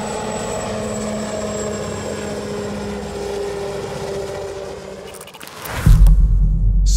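Defiant X coaxial stealth helicopter flying, a steady loud rotor and engine drone that holds for several seconds before a brief dip and a heavier, louder low rumble swells near the end.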